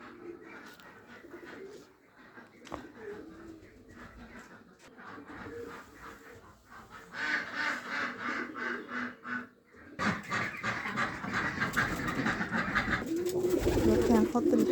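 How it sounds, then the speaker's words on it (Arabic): Pigeons being fed grain outdoors coo softly and repeatedly, with wingbeats and scuffling growing busier and louder toward the end, while a person talks intermittently nearby. "دلوقتي هنحط الحمام مع بعضينا الغدا"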